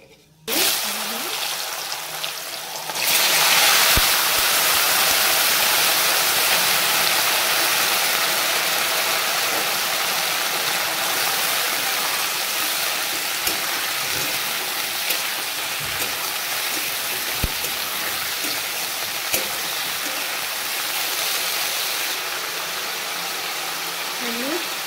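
Raw green banana and potato sizzle steadily in hot oil tempered with whole spices. A loud, continuous frying hiss starts after a brief quiet moment, with faint clinks of utensils.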